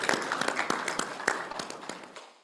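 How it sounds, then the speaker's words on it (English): A conference session audience gives a short, scattered round of applause: a few dozen distinct hand claps close together that thin out and fade within a couple of seconds. "Please give applause"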